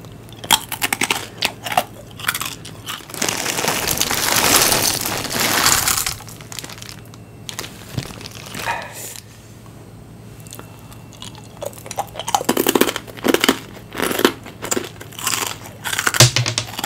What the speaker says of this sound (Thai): อันนี้ปลากรอบ